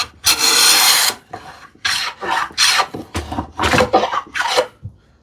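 Hand tool rasping the edges of plywood on a TV unit build, several short rough strokes in quick succession, close and dry, with brief pauses between them.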